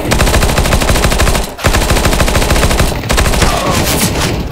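Rapid automatic gunfire in the video game Counter-Strike during a team deathmatch, loud continuous bursts with two brief pauses, close and dominating.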